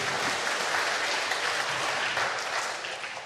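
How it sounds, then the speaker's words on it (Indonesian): A church congregation claps for a song during a Sunday sermon service, a dense even burst of applause from many people that fades slightly at the end. "tepuk tangan buat lagu yang indah"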